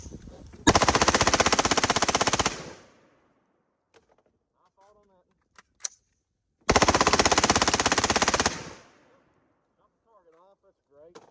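A Colt Commando automatic rifle fires two long, loud sustained bursts with a pause between them. Faint clicks and brief handling noises sit in the gap and at the end.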